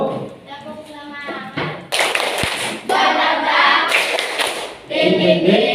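A standing group of upper-grade schoolchildren performs a spirited clapping routine, with bursts of hand claps alternating with chanted, sung syllables in short rhythmic phrases.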